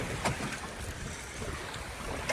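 Strong wind blowing at an outdoor event, a constant roaring buffet against the microphone with gusts rising and falling and no talk over it.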